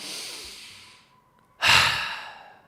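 A single person draws in a long, audible breath, loud and close, following a softer exhalation and a brief quiet pause, with no talking.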